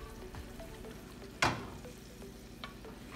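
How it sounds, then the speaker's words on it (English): Rockfish fillets frying in a hot pan at medium-high heat: a steady low sizzle with a sudden loud burst of spitting as the pieces go in, then softer scattered pops. No voices. "let's get that fully melted onto the pan and we are going to add in our rockfish"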